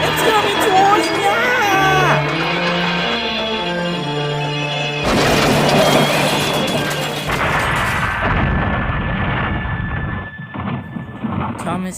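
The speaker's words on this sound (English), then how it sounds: "Thomas had crashed near the ocean buffers, and Percy's statue had fallen over." A loud crash rings out as a toy train collides with buffers by the ocean, a clanging, booming impact over a busy musical score that trails off into quieter rattling.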